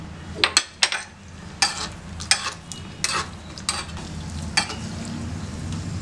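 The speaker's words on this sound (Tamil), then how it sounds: "இந்த முந்திரி பருப்பை எடுத்து இதில் நல்லா வறுத்துக்கலாம்" Cashews roast in ghee in a pan for motichoor laddu, with a soft ongoing sizzle broken by repeated sharp clinks and scrapes of a spoon stirring against the metal pan.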